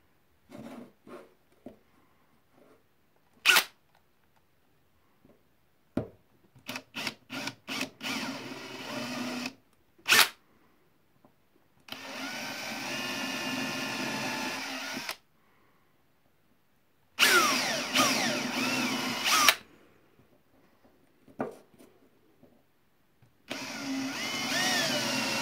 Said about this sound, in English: Give it a little tap so I know where to drill the holes.